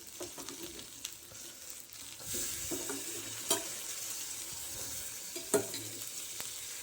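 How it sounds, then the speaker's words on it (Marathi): Mustard or cumin seeds crackling as they drop into hot oil for a black val bean curry, a steady soft sizzle with a few sharp pops and spoon stirring, no voices. "बिया टाकतात बघा तेलामध्ये"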